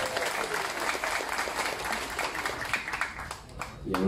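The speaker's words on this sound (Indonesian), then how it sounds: "boleh tepuk tangan untuk mereka" Audience applause at a Gerakan Pemuda Ka'bah gathering, dense crowd clapping rolling steadily for several seconds with a voice heard over it.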